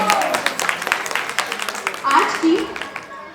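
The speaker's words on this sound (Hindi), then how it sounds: "एक बार जोरदार तालियां हो जाए रजत जी और साक्षी के लिए।" Applause from guests at a bride's mehendi celebration, a burst of clapping with voices and cheers mixed in, fairly loud and close, with speech over parts of it.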